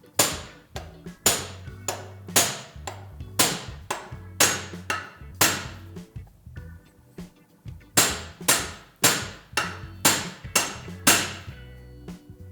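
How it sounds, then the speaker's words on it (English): Hammer blows drive a star nut installation tool down into a bicycle fork's steerer column, a steady run of sharp metallic strikes about two per second, each ringing briefly, with one short pause midway and no talking. "The hammer will strike down vertically from above."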